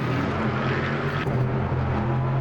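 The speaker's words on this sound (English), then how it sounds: "Just noise of them V8s." V8 race car engines in the racing game Automobilista 2 produce a steady, dense droning roar, a continuous mechanical wash without distinct revs standing out, heard alone.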